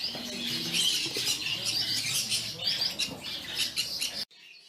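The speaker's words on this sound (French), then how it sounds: "ici les colombes diamants. Puis les cailles de Chine." Diamond doves and Chinese quail at an indoor bird show chirp and squawk busily, a dense chorus of small bird calls at moderate level that cuts off abruptly near the end.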